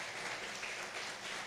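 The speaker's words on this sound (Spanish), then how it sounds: "¿Podemos darle un aplauso a Jesús?" Applause for Jesus during a Spanish-language church service, a steady wash of clapping from the congregation filling the short moment, fairly quiet and with no voices over it.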